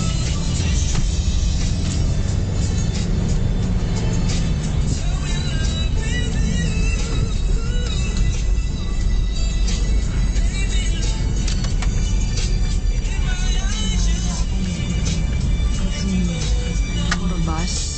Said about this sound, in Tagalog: Puro bus.